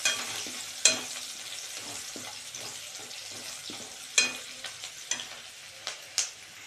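Soybean chilli with capsicum fries in hot oil, a low steady sizzle broken by sharp scraping stirs and clinks of a spoon against the pan, close and alone.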